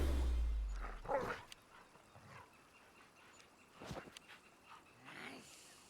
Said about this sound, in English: Okay, the dogs are distracting them, which is nice.